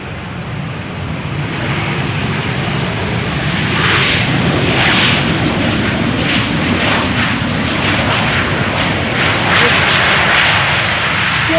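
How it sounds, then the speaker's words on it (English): A KLM airliner arriving at Amsterdam Schiphol Airport on a sunny day, its broad jet roar swelling loudly around the midpoint and holding steady as it passes close by. "KLM 1270 arriving for Copenhagen."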